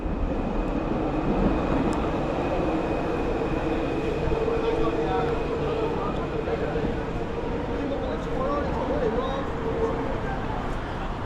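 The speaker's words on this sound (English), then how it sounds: "this is a train passing up here, a rather smaller one" A small elevated train rolls past overhead in Kuala Lumpur, producing a continuous, even rumble that fills the whole stretch, with a voice talking faintly over it.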